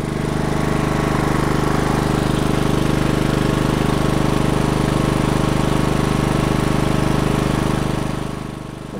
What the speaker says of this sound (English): Now full throttle, fast as the engine will go.